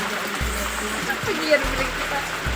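The Cuka River flows in a steady, rushing stream with faint splashing, heard close beneath people talking.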